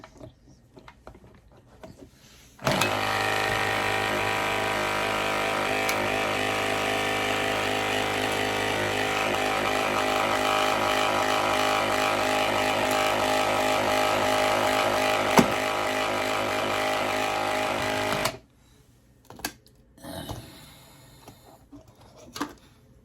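Vibrating paint shaker mixing a can of black paint, a loud steady mechanical rattle and hum that runs for about fifteen seconds, then cuts off, followed by faint handling noises.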